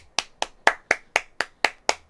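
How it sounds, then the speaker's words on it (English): Eight sharp hand claps in an even, steady rhythm, close and fairly loud, each a crisp isolated smack with a short decay and quiet gaps between them; no talking. "So if I clap like on my hand, I mean, I clap like this in real life anyway."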